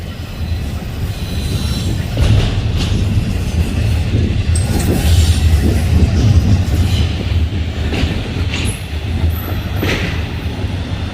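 Freight train cars rolling steadily past up close, a BNSF car among them at the rear of the cut, with continuous low rumble, rhythmic wheel clatter and occasional thin squeals throughout.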